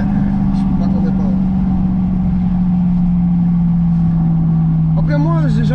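Mercedes-Benz CL 63 AMG with a 6.2-litre V8 holds a loud, steady drone against the rev limiter in first gear, heard from inside the car, then drops away as a voice talks over the last second.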